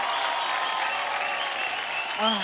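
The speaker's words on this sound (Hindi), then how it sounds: "जोरदार तालियां प्लीज उनके लिए" Applause from an audience at an awards presentation, a brief smooth wash of clapping that runs under music and a voice entering at the end.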